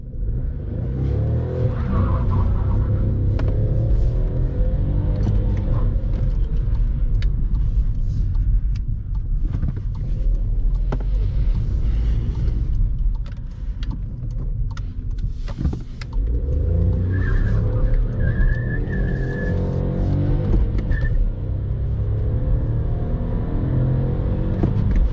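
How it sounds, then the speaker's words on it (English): A small car engine drones and strains steadily, rising under load while driving, with a brief dip midway and a faint whine later on. "Little engine, really trying hard."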